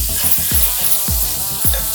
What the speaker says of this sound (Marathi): त्यासाठी मी या तव्यामध्ये हे बटर टाकत आहे थोडं